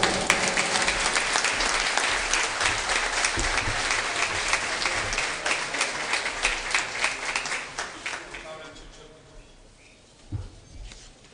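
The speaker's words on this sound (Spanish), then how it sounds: "Felicitaciones, un aplauso por favor." A crowd applauds an honoree at an award ceremony of the Asamblea Departamental del Huila, with loud, dense clapping that gradually thins into scattered claps and fades near the end.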